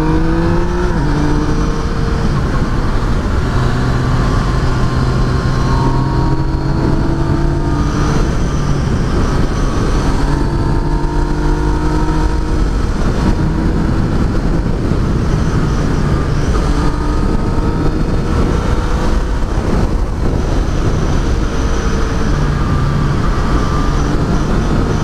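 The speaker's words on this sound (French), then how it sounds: "on retrouve toute la sonorité du moteur du MT-09" The engine of a Yamaha Niken three-wheeled motorcycle, which shares the MT-09 engine, drones loudly throughout while riding, with shifting harmonic tones as the revs rise and fall, wind noise underneath.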